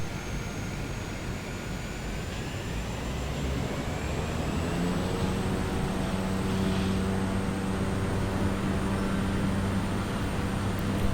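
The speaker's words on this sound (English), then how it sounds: "Park brake released, and we'll start advancing the throttle." A propeller aircraft engine in Microsoft Flight Simulator 2020 revs for takeoff, a loud, continuous droning roar with rising tonal whine as throttle advances, steady throughout with no talk.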